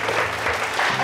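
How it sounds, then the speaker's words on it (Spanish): Audience applause at a live television show with a clairvoyant, a steady dense burst of clapping from a crowd, loud and sustained throughout with no talking over it. "Oye, pido un aplauso."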